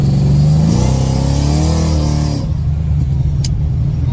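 A 2014 Ford Shelby GT500 engine revs up loudly, climbing in pitch as it accelerates, then drops to a steady lower rumble as the revving eases off.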